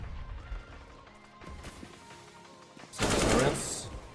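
M4A4 rifle fire in a Counter-Strike match, sharp game gunshots bursting out over a busy backdrop of in-game effects, ending in a loud dense spray of shots near the end.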